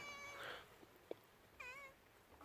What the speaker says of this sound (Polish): To już jest mój kotek. Nie mógł się doczekać, jak przyjadę.